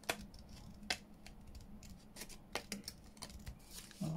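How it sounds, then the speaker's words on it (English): Scissors snip through decorative paper insert material, a quiet series of sharp crisp cuts at an uneven pace, close up against a faint steady background hum. "Let me get me other scissors and just twiddle"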